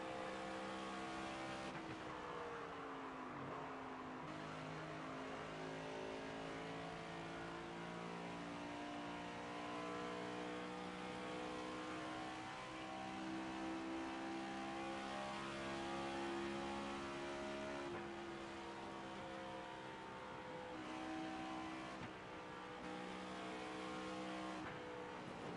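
A NASCAR 25 race car driven backwards around Kansas track in the video game, a continuous droning engine with shifting pitch and revs, steady and loud throughout, no talking.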